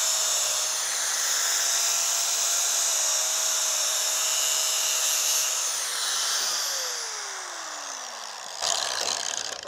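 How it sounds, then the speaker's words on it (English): An angle grinder fitted with a cutoff disc cuts through a tractor PTO shaft shroud, a loud steady high-pitched whine that holds for several seconds, then winds down in pitch as the disc slows, ending with a brief scrape. "An angle grinder with a cutoff disc is a great way to cut this."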